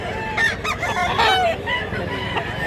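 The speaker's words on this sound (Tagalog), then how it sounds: "Manok." Chickens at a livestock market in Mantalungon, Cebu cluck and squawk nearby while a rooster crows in drawn-out calls, busy and overlapping with faint background noise.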